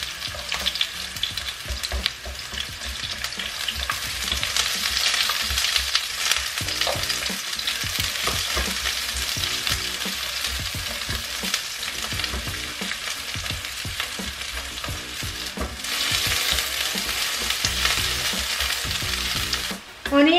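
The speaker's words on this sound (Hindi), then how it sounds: "जैसे ऑयल गर्म हो जाएगा तो मैं ऑनियन डाल दूँगी उसमें" Onions frying in hot oil as the base for a paneer masala make a loud, continuous crackling sizzle that runs unbroken, with stirring scrapes mixed in throughout.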